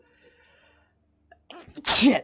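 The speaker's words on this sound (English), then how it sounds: "That was a sneeze, ladies and gentlemen." A single loud, sharp sneeze bursts out near the end after a quiet stretch, with a brief muttered word just before it, during a Halo Wars gameplay session.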